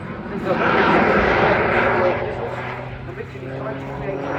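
Aircraft engine drone from a plane flying an aerobatic display at the Duxford Summer Air Show, a loud sustained roar peaking early then easing slightly, with a commentator talking over it.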